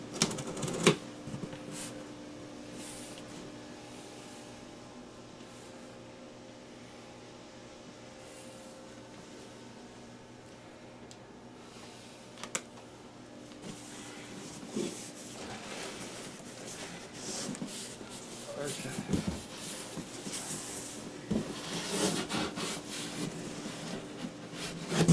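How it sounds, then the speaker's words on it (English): Scissors cut into the packaging of an Ibanez semi-hollow body guitar, producing irregular scraping, rustling and snipping noises close by over a steady background hum, with some louder crinkly bursts toward the end. "Scissors!"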